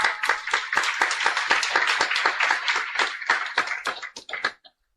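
Steady clapping from a gathered audience at a devotional gathering, a dense run of sharp hand claps for about four seconds that thins and stops abruptly.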